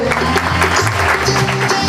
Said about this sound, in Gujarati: જોરદાર તાળીઓથી વધાવીએ.